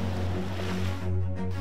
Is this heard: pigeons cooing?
no